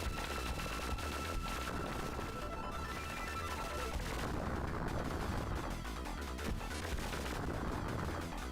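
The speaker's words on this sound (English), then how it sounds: "All of the explosions." Dense, continuous barrage of explosions and gunfire-like bursts from a game on a Genesis / Mega Drive Mini 2, loud and unbroken for several seconds with no talking.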